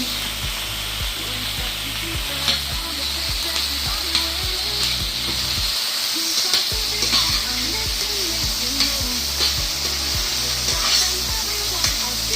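Vegetables sauté in a pan for Jamaican escovitch fish, a constant hiss under rhythmic low scraping or tapping strokes that repeat steadily, with a brief pause midway and no voices.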